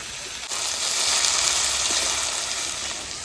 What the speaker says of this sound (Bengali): পেঁয়াজটা ভাজার জন্য লবণ দিয়ে দেবো